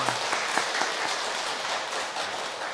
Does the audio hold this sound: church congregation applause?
yes